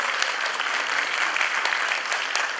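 Steady applause from a crowd at a Turkish oratory contest award ceremony, dense continuous clapping throughout with no talking over it.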